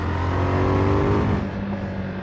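A 2024 KTM 990 Duke motorcycle accelerates hard, its engine a loud, close, rising roar with strong harmonic whine. The roar holds for about two seconds, then eases slightly.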